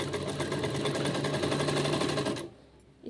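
A sewing machine stitches along the edge of a folded suit sleeve, running in a steady, close, continuous whir for about two and a half seconds before stopping abruptly.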